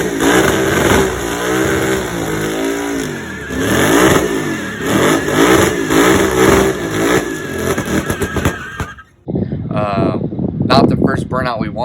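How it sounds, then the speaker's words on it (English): A 1978 Pontiac Trans Am V8 revs hard through a burnout at a Goodguys car show, the engine roaring and surging in waves with crowd voices and talk mixed in, then cutting off abruptly near the end before louder nearby speech. "Not the first burnout we wanted in this thing"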